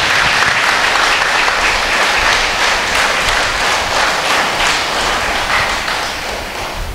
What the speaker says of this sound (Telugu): గట్టిగా చప్పట్లు కొడదాం అమ్మకి